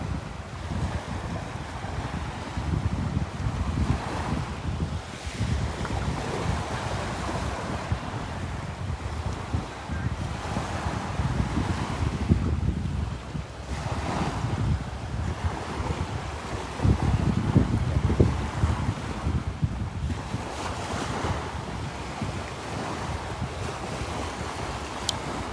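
Wind and ocean waves on a Southwest Florida beach at Delnor-Wiggins, a southwest onshore breeze buffeting the microphone with low rumbling gusts over a continuous wash of surf, with no voices.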